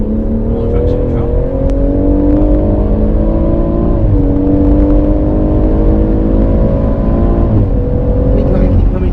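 Race car engine at Goodwood, loud and close from onboard, a sustained droning tone that climbs steadily under acceleration, dips as gears shift, then climbs again, with a voice talking over it.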